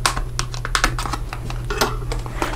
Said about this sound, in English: take my bone folder and just press down